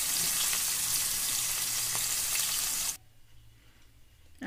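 Thinly sliced onions fry in hot oil with fennel seeds, cinnamon and cloves, a loud, close, steady sizzle and crackle that suddenly cuts to a quiet low hum about two-thirds through.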